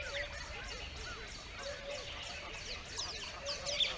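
A colony of small bluish, sparrow-sized birds flutters out of clay nests on a vertical rock face in a canyon, giving a dense stream of high, chattering calls that fill the scene at moderate distance.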